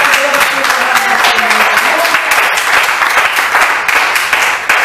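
Steady, loud applause from a congregation during a church service, dense continuous clapping for the whole stretch with a voice faintly audible at the beginning.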